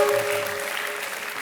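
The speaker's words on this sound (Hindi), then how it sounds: "एक बार फिर हम ताली बजाएंगे आपको।" A studio audience on the Kaun Banega Crorepati game show claps in a brief, dense wash of applause that fades slightly, with a faint tone underneath.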